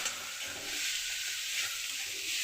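Garam masala and turmeric fry in a pan, making a soft, even, continuous sizzle with a faint hiss and no other sounds.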